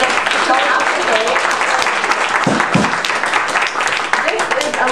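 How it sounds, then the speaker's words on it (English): Loud, sustained applause from a large crowd, dense clapping filling the whole stretch with a few cheers mixed in. "let's give a round of applause for everybody that's showing up today"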